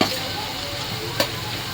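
Potatoes tipped into a pan of sizzling chicken masala being browned: a steady, close hiss of frying with one brief clattering burst as the pieces land partway through.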